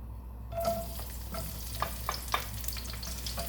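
Garlic being sautéed in a pan for pancit, with a steady low sizzle of frying and a few sharp stirring clinks from a utensil against the pan, fairly close and with no talking.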